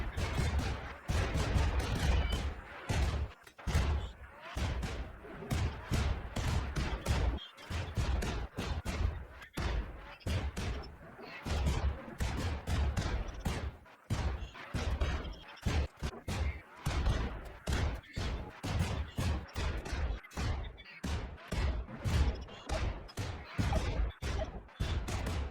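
Mortar barrage in the Rimworld video game, a dense, continuous run of thudding blasts and crashes, loud and close, overlapping without pause for about twenty-five seconds.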